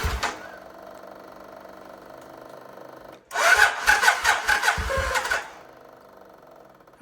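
A gasoline engine with a freshly serviced carburetor and new oil cranks and catches, then runs loudly with a rough, pulsing mid-pitched drone for about two seconds before cutting back to a quiet hum, close by.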